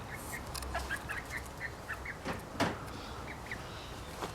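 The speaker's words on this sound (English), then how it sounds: "putting the chickens out, and today I did it again, and look at them eating the grass" Free-ranging backyard chickens out on grass give soft, repeated clucks and small calls at a distance over a faint outdoor background, with no talking.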